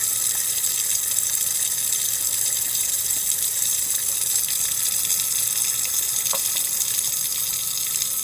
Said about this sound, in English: I'm going to pour a little distilled water on there.